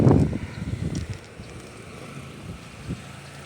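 Gusty wind buffets the microphone in low rumbling bursts, strongest at the start, then settling into a steady outdoor rush.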